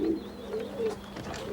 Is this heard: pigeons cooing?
yes